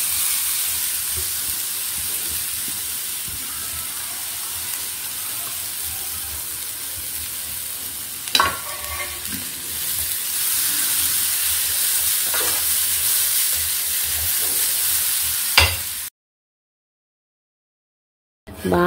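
Dried prawn shells fry in a pan with a steady, close sizzling hiss, broken by a few sharp scraping stirs, before cutting to silence near the end.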